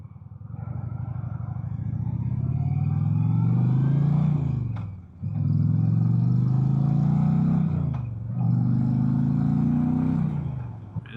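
A 2025 Indian Challenger Elite motorcycle accelerates hard, its loud, close engine note climbing steadily in pitch through three gears, dipping briefly at each shift before rising again.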